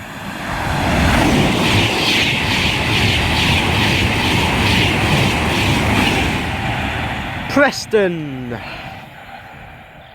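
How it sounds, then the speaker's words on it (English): A Class 390 Pendolino passes on the West Coast Main Line at Hartford, a loud steady roar and rumble of the train going by, with a voice speaking briefly as it fades. "our final train of the day is going to be a Class 390 Pendolino bound for"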